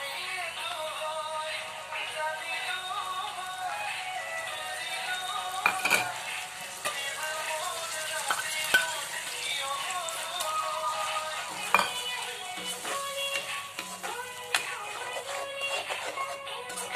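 Skunkvine and matikanduri paste frying in a pan, with a steady close sizzle, scraping stirs and occasional sharp clinks of a utensil against the pot.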